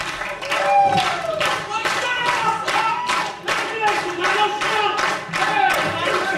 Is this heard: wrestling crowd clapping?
yes